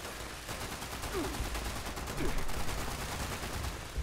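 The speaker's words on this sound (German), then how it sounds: "Kugeln fliegen von A nach B." Gunfire from the video game Fallout 76, rapid bursts of shots and crackling explosions filling a dense, steady battle din without pause.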